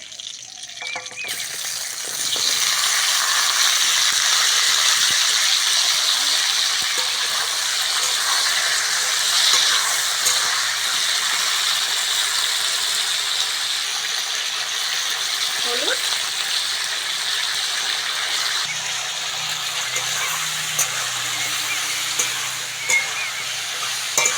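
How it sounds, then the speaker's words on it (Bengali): Vegetable pieces fry with salt in white oil in a wok, producing a steady, close sizzle over many seconds, broken by occasional clicks and scrapes of stirring. "খুদ্দিগুলো ভালো করে ভেজে নেব"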